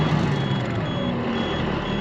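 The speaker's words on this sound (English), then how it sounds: "turned my truck on, and it's doing the beeping" Steady electronic beeping from a farm truck's cab, sounding continuously right after the truck is turned on, close and fairly loud over a low engine-like hum, with no talking.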